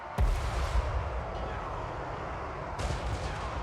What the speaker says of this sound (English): Oh, the poison wind mortars.